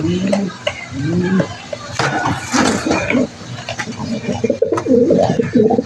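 Young white pigeons coo in soft, rounded phrases up close, with clinks and rustling movement around them and a few scattered sharper knocks.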